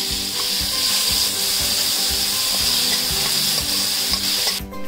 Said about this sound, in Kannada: ಈಗ ನೀರುಳ್ಳಿ ಹಾಕ್ತಾ ಇದ್ದೇನೆ.